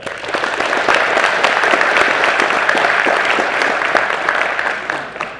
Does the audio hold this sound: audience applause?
yes